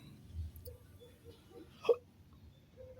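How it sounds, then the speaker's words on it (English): A single sharp hiccup pops out near the middle of a quiet stretch, brief and close, with faint background murmur around it. "got the hiccups."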